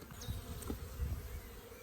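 Honey bees buzz steadily at an opened hive during colony work, a close continuous drone with no speech.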